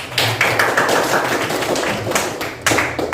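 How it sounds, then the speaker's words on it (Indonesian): A classroom of students gives a round of applause, a dense spread of claps at steady loudness with a few sharper bursts, heard close by with no talk over it. "Oke, kita beri aplaus dulu."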